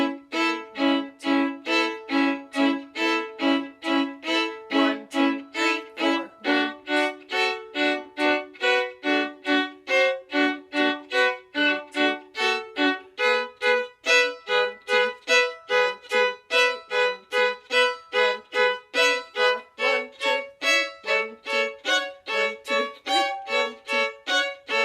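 Fiddle playing a tune with double stops, a steady rapid run of bowed notes in an even repeating rhythm, bright and close with no talking.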